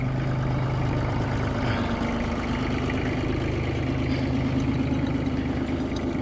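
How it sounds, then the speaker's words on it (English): A tractor engine idles steadily nearby, a low rumbling drone with a throbbing harmonic pulse that holds constant throughout with no speech. "we're gonna move that tractor out of the way"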